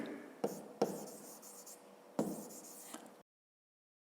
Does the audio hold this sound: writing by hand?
yes